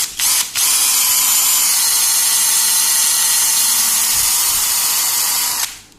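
A power drill in drill mode at second speed bores a hole in an old wooden mirror-door frame, a loud, steady high whine that runs nearly six seconds after a brief start-stop, then cuts off.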